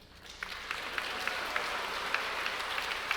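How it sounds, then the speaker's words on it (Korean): A church congregation applauds to welcome the pastor at a Sunday service, steady clapping from many hands filling the room evenly for the full stretch, with a few sharper claps standing out and no talking. "우리 목사님 나오실 때 힘차게 박수로 환영하시겠습니다."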